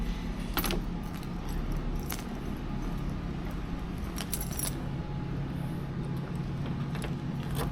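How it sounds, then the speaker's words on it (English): Car keys for a 1975 Pontiac Grandville jangle in bright, metallic bursts, near and clear, over a steady low background rumble with no talking. "Let me grab the keys."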